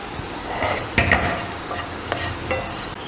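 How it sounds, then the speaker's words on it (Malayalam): Raisins fry in ghee in a ladle, giving a soft sizzle broken by a few sharp scraping stirs, quiet and close. "ഇതിലേക്ക് മുന്തിരി ഇട്ട് വറുത്ത് കോരുക."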